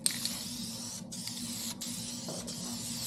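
Spray gun hissing paint onto a BMW E36 drift car, steady loud bursts broken by brief pauses between passes, no talk.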